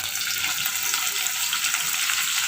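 Bitter gourd pieces fry in oil in a pan, giving a steady, bright sizzle with soft crackling that holds evenly, close and moderately loud, with no talk.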